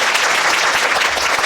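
A crowd applauds steadily at a parents' seminar, a dense patter of many hands clapping at once, fairly loud and without any voices.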